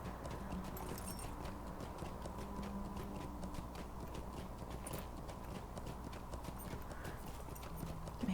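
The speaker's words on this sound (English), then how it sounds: "My horse's name is Coriander" A horse's hooves clip-clop steadily in the Lord of the Rings Online video game, a quiet, continuous walking rhythm with no talk.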